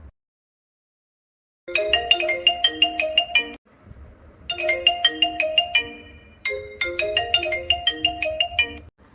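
A phone rings with a melodic electronic ringtone, three loud bursts of rapid repeating notes separated by short pauses, clear and close with no talking.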